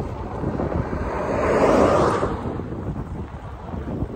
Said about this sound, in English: Very quiet country road, a little bit of a headwind.